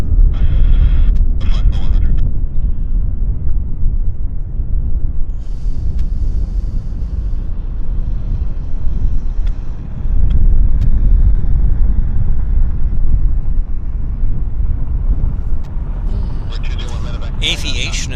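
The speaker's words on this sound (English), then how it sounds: "the wind just picked up" Gusty wind buffeting the microphone at an airport on a plane-spotting stream, a loud low rumble that swells and eases throughout, with faint voices and airport noise behind it.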